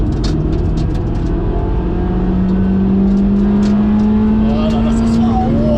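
Honda Civic Type R EK9 engine revving hard with VTEC engaged, a loud sustained rising howl inside the car, with people talking over it.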